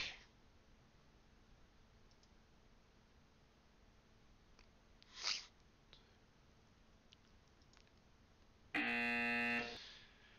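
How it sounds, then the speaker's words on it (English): In the Action PC Basketball video game, the end-of-game buzzer blares as a single loud, harsh electronic tone lasting about a second. Faint clicks and quiet background come before it. "the buzzer sounds, and that is the end of tonight's contest"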